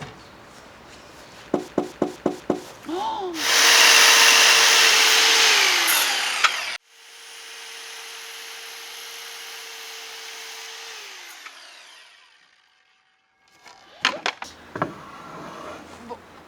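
Power saw cutting wooden deck slats, first a few sharp taps, then two loud sustained cuts with the motor whining up and winding down between them, followed by more clattering knocks as the boards are handled.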